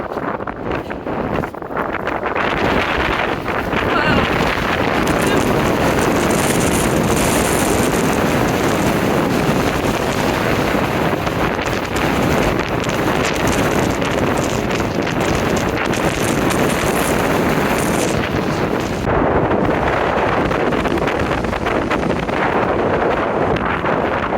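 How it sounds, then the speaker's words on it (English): Strong, steady wind in Death Valley National Park roars and buffets the microphone throughout, loud and continuous with gusty rumbling and no voices. "it is extremely windy here"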